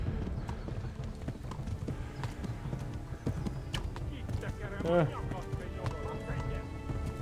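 Hooves clip-clopping at a running pace with a brief horse whinny in the video game Kingdom Come: Deliverance, under a person talking and busy game sounds.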